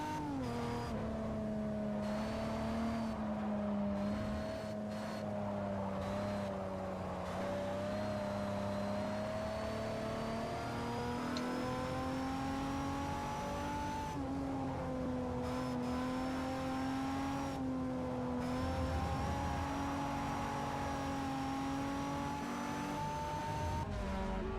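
A Mazda RX-7 races in the video game Forza Motorsport 4, its engine droning loud and continuous throughout, the pitch rising and falling through gear changes with brief dips between shifts and no voices over it.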